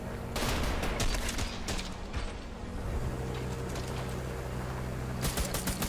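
Video game gunfire crackles in rapid clustered bursts, loudest near the start and again near the end, over a steady low mechanical hum.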